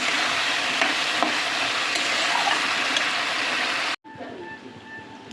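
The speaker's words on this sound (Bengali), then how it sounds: "টমেটো কুচিটাও দিয়ে দিলাম। ভালো করে কষিয়ে নেব।" Chopped tomato stir-frying in a pan, loud and close: a steady, dense sizzle runs for about four seconds, then cuts off abruptly to a faint background hum.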